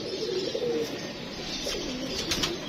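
Pigeons settling onto a rooftop in the evening, giving soft cooing calls with light chirps and faint wing flutters over steady outdoor background noise.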